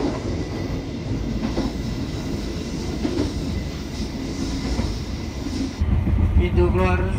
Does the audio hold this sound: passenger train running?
yes